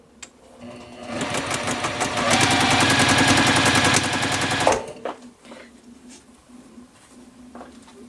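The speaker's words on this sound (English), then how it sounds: "The first thing I'm going to do is sew these triangles onto the end of my rectangle" A sewing machine stitches fabric triangles onto a rectangle quilt piece for a basket block, a steady close whirring run of about four seconds that stops abruptly, followed by a few faint handling clicks.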